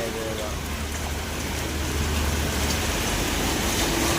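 Steady rain pouring over flooded roads in Gazipur, a dense continuous hiss with a low rumble beneath that stays loud and close throughout, without any break.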